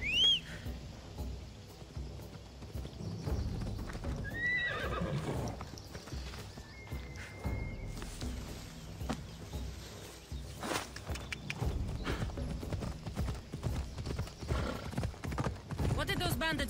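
Horse in Assassin's Creed Odyssey clip-clops along with hooves beating in rhythm, neighing and whinnying at moments, with game voices talking over ambient birdsong.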